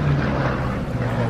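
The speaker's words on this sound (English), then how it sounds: "Some beautiful wingtip vortices coming off the Corsair in these slightly damp conditions" A Corsair fighter aircraft flies past at an air display in damp, moist conditions, its engine giving a loud, steady propeller drone with a low hum throughout.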